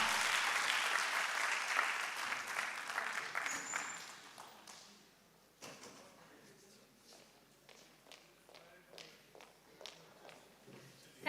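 Audience applause after a speech at a youth entrepreneurship event at KIIT, Odisha: loud, dense clapping that fades after a few seconds into scattered claps, taps and shuffling in the hall.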